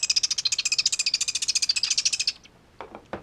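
A baby chimney swift in rehab calls at feeding time with a rapid, steady train of loud, high, buzzy chirps, close up, then a short pause and a few faint clicks.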